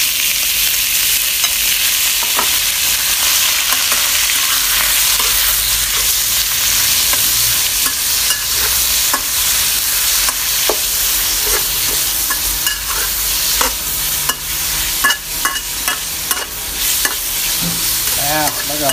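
Steady sizzling and frying in a hot pan as chicken gizzards are stir-fried with onion and garlic, with occasional scraping and stirring strokes throughout, loud and close, no voices.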